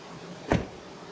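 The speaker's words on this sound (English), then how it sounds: "This is one of the best sounding door closes in the history of car." A single solid thud from the door of a 2023 Mercedes EQS 580 SUV closing, one short close, loud burst over a quiet background, with no talking.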